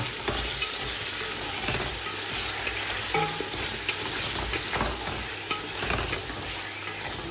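Tomato sizzling and frying in a pan, a steady close crackle with occasional stirring scrapes and no talking.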